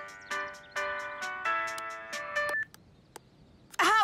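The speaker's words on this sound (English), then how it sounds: "However did that horrid song become my ringtone?" A cartoon phone ringtone plays a bright electronic melody of short sustained beeping notes for about two and a half seconds, then cuts off, followed by faint ticks and a brief burst of warbling tones at the end.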